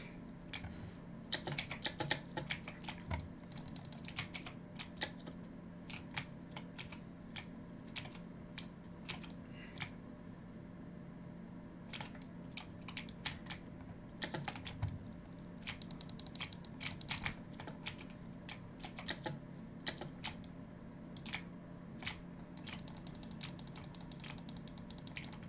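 A PC computer keyboard clicks in irregular bursts of keystrokes during Destiny 2 play, quiet and nearby, with short pauses between flurries over a faint steady hum.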